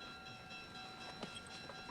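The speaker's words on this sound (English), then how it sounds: "Last call for the Southern Pacific Owl train number" A Southern Pacific Owl passenger train rumbles faintly and steadily at a station, with a few soft clanks and brief metallic squeals rising over the low, continuous roar.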